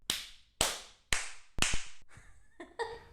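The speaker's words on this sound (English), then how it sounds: "that's quite a lot of claps" Several distinct hand claps, sharp and close, spaced about half a second apart, ending in a few lighter claps with a ringing tail, alone without talk.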